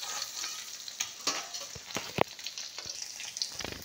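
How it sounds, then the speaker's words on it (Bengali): Cauliflower and eggs frying in hot oil, a steady close crackle of sizzling with scattered sharper pops and a few clinks as pieces are lifted out one by one. "আর এখানে আমার ফুলকপি ডিমও ভাজা হয়ে গেছে"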